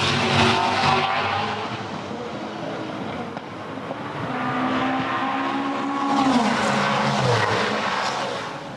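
V8 Supercars roaring around the 2015 Sydney 500 street circuit, loud engine drones rising and falling as cars pass close by, with tire squeal and a descending pitch sweep as one car goes past.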